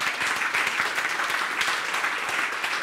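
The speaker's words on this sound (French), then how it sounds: "Applaudissons le Seigneur." A church congregation applauds during a French-language service, sustained dense clapping that fills the room at a steady, loud level.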